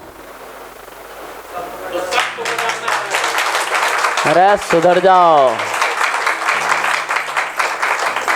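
An audience at a motivational talk breaks into loud, sustained clapping that builds and fills the room, while someone speaks over it for a few seconds.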